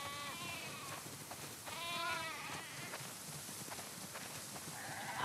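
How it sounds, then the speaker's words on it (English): Several sheep bleat in overlapping calls in the video game The Last of Us Part II Remastered, against a steady background hum, one long wavering bleat standing out in the middle. "that's a lot of sheep"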